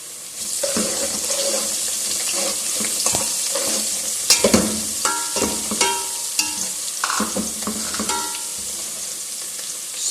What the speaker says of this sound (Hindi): अब इसके अंदर जो हमने अदरक, लहसुन और साबुत धनिया तो उसको शामिल करेंगे।